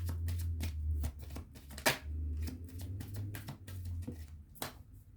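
Tarot cards shuffled for a card draw, a rapid series of crisp flicks and snaps close to the listener, over a low steady hum, with no talking.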